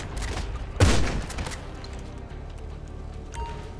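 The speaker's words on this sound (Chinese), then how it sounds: "那坦克车爆了" Tank exploding amid gunfire in GTA5: one loud, sharp boom near the start, followed by a steady rumbling game ambience with faint scattered thumps and a smaller pop toward the end.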